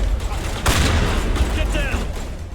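Gunfire in Mass Effect, a sharp loud shot followed by a rapid burst of crackling fire and booming rumble within a few seconds of combat noise.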